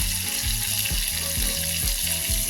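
Ground coriander, chilli and turmeric fry in hot oil in a pan, a steady dense sizzle broken by a rhythmic scraping as a spatula stirs the spices about twice a second, close and continuous with no voices.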